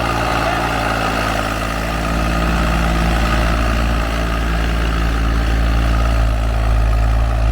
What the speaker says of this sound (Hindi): ये देखो जी दूसरे के हाई में सोनालिका 734 11 टाइन का कल्टीवेटर।